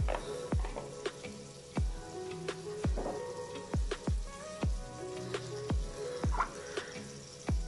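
Sausages frying in butter in a pan for a simple breakfast, giving a steady sizzle broken by sharp crackling pops at an irregular, fairly quick rhythm, close up with no talk.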